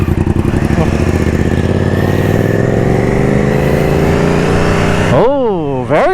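A Triumph Trident 660 motorcycle with its stock exhaust accelerates, the engine note climbing steadily and loudly, then dropping and rising again in sharp revs as gears shift near the end.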